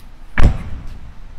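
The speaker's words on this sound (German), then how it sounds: "Kann hier eindrücken, poppt er raus, kannst dran ziehen und die Tür geht auf." Door of a Polestar 1 opened through its flush, pop-out handle: a single firm thud with a short latch click near the start, followed by quiet settling noise.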